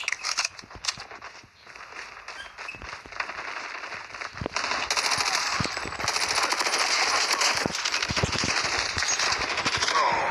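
Rapid automatic gunfire in a Call of Duty free-for-all match, with dense bursts of crackling shots that grow louder and more continuous toward the end.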